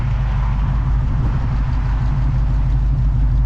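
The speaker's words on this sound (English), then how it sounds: "All I hear is glass packs, baby." Steady low rumble of a 1969 Pontiac Bonneville Safari wagon with a 428 engine, burbling through glasspack mufflers, loud and close at an even idle or cruise with no voices.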